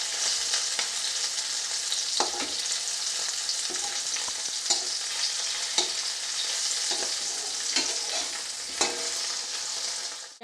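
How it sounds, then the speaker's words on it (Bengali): Bata fish frying in a pan on low heat makes a constant soft hiss and crackle, with scattered spatters and a few light clinks from turning the pieces. "মাছগুলো আমি এমনভাবে ভাজবো যেন বেশি শক্ত না হয়ে যায়।"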